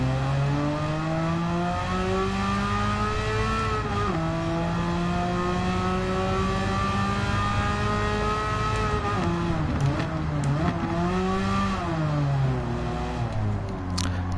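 A race car engine in Gran Turismo 7 revs continuously and loudly, climbing and dropping in pitch as it shifts through gears, with a couple of sharp dips and recoveries near the end and no voices.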